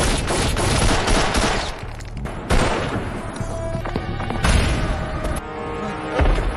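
A grenade explosion amid sustained gunfire in an action film scene, loud bursts of automatic fire and heavy booms recurring throughout over a dense, noisy battle backdrop.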